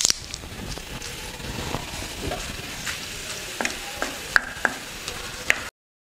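Cumin seeds and curry leaves hit very hot oil in a pan for a potato kurma, giving a close, steady crackling sizzle with scattered sharp pops and a few metallic clicks before it cuts off.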